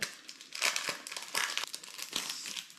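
A postcard being handled makes close, crisp crinkling and rustling sounds in several short, uneven bursts, quiet overall with no voices.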